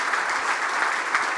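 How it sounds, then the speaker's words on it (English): An audience at a London investment conference applauds, a dense, even wash of many hands clapping at once, loud and sustained across the whole moment without speech. "let's give a round of applause"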